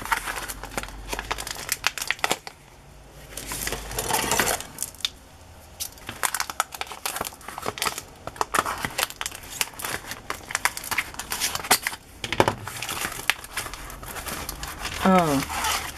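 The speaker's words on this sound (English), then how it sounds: "this foil paper was from Italy, and it's used for wrapping candies" Thin Italian foil paper used for wrapping candies crinkles and crackles in repeated bursts up close, with a voice talking intermittently alongside.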